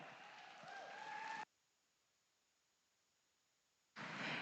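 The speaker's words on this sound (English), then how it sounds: "Let's give them all a big round of applause." Applause from an audience at a junior showmanship and wether sire and dam sheep show at a state fair, a broad noisy burst lasting over a second, then silence, then another loud burst starting near the end.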